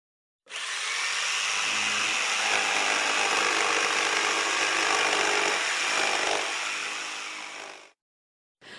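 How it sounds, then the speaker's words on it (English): A circular saw whines steadily through wood for about seven seconds, a loud continuous buzzing rasp that starts abruptly and cuts off. "You have a band saw, you have a circular saw, and this one makes this sound."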